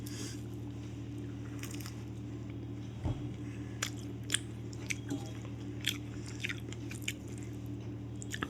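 Quiet, close chewing and biting while someone eats lunch indoors, soft crunches and squishes scattered irregularly over a steady low hum, with no talking.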